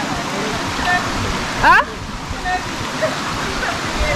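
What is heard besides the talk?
river water flowing near Mt. Carmel Waterfalls, Grenada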